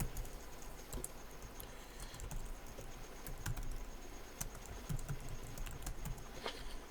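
Typing on a computer keyboard while building a Power BI call center dashboard; a soft, steady patter of keystrokes runs throughout, fairly faint against a low background hum.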